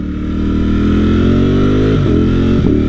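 Ducati Streetfighter V4S motorcycle engine droning loudly and steadily while riding, pitch climbing gradually, with two brief gear-change dips near the end.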